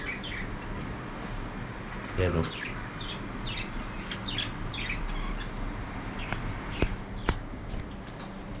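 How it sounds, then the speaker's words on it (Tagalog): Small pet birds on a flat balcony chirp and squawk in scattered short calls nearby while being fed, with occasional sharp tweets, while a person speaks briefly over the soft background. "At ito, napakain yung ibon."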